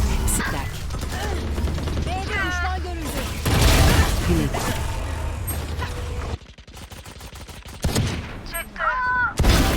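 Gunfire from the shooter game Valorant, repeated crackling shots and mechanical clicks mixed with game effects, with people talking over much of it.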